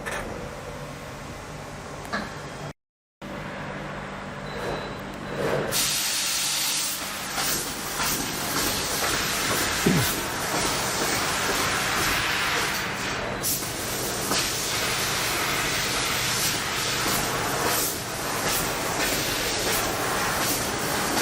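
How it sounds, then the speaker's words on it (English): A Bystronic fiber laser at 10 kW full power slices 3 mm mild steel at high speed, producing a loud, continuous hiss with a steady rush of gas and a brief cutoff early on before the cut runs on. "we will cut here 3 millimeter mild steel with 10 kilowatts, so we can really see high-speed cutting on this machine"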